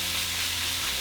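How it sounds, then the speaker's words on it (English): Ground meat with onion and tomatoes, seasoned with garlic, salt and pepper, sizzles in a pan. The frying is loud, steady and close, with no voices. "Now just break down your meat and mix it with your onion and tomatoes."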